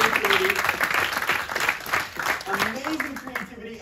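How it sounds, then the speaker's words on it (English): Sustained applause from a conference audience at an iOS developer event, dense crowd clapping filling the whole stretch at steady loudness, with a voice talking over it. "let's give a round of applause for that amazing creativity"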